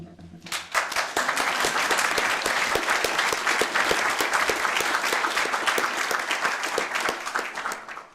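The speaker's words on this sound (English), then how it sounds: "Everybody wants to clap." A courtroom audience at a judicial investiture bursts into loud, sustained applause after a short quiet start, dense clapping continuing steadily to the end.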